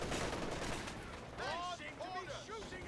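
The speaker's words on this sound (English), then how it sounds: "We have the artillery coming down from the Brits." Artillery and gunfire in Company of Heroes 2 boom and crackle in a dense battle mix, with shots and blasts layered over one another and a voice speaking over the combat.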